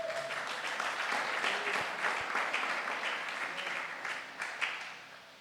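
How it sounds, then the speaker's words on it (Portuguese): A church congregation claps together in a steady, moderately loud round of applause that fades slightly toward the end. "Vamos bater um pouco de palmas"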